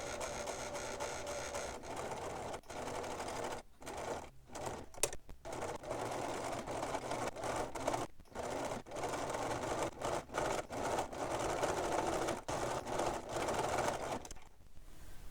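A sewing machine stitches a micro roll hem on fabric with a close, steady mechanical whir. It stops briefly several times and then starts running again.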